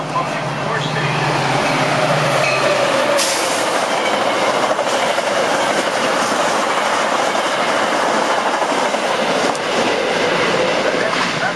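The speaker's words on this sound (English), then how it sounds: "The next Metra train approaching your station is the Metra Express train and will not stop." Metra Express train rushing through a station without stopping, loud steady roar of wheels on rails with clattering rhythm and squeal; a public-address voice speaks over it.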